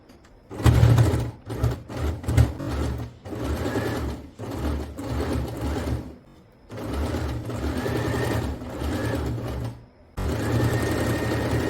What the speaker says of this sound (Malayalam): നമുക്ക് ഈ ഹാൻഡ് വീൽ വെച്ചിട്ട് പതുക്കെ കൈ വെച്ചിട്ട് മാനുവലി ഒരു 2-3 സ്റ്റിച്ച് കൊടുക്കാൻ പറ്റും